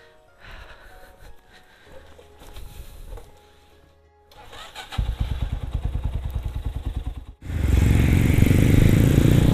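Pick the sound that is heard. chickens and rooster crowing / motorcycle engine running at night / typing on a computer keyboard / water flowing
motorcycle engine running at night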